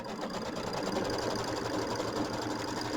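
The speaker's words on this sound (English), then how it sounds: "So we're going to sew out our batting placement line." A home embroidery sewing machine stitches a batting placement line on a quilt block, running in a steady, fast mechanical whir with a rapid needle rhythm throughout, close and alone.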